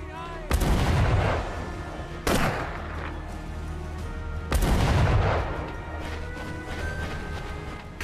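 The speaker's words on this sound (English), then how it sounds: "Carefully timed shots would keep my location hidden." Sniper rifle gunshots in the VR game Sniper Elite VR: Winter Warrior, three loud booming blasts a couple of seconds apart, each trailing off into a long rumbling echo.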